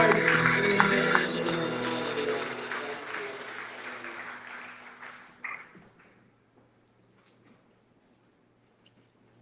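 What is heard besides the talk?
audience applause and clapping in church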